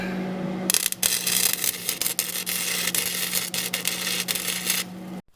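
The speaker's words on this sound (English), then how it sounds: "Now it's time to see if we can actually weld." Welding on a damaged car rocker panel starts after a short hum, a harsh crackling sizzle with scattered pops that runs continuously for several seconds, then stops.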